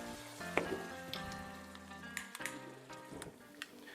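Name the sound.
high-proof alcohol lit on fire in pan, sizzling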